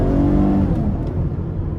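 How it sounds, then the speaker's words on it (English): A 2014 Chevrolet Camaro 2LS with the 3.6 V6 engine revving under light throttle, a loud, close, deep engine drone that rises briefly, then settles to a steady rumble. "Give it a little throttle here."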